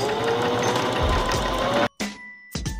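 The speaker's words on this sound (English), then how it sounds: "The first step is to sew the borders on your pieces." A sewing machine stitches fabric borders with a steady, close mechanical whir that stops suddenly, followed by a couple of short bursts as it restarts briefly.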